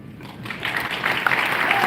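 Audience applause for a panel at a live training event in Las Vegas, a dense wash of clapping that swells and grows louder through the moment, steady and crowd-wide with no voices standing out.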